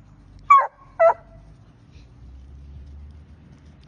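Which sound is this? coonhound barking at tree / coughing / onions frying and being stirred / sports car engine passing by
coonhound barking at tree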